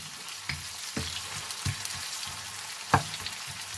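Sliced onions sauté in a pan with a continuous low sizzle, punctuated by several light, regular stirring taps of a spoon against the pan.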